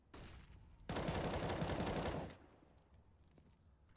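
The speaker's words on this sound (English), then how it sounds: "Cello has picked up an AK and" AK rifle fire in Counter-Strike on the Nuke map: a dense, loud burst of rapid automatic shots lasting over a second, then quieter game ambience with faint scattered clicks.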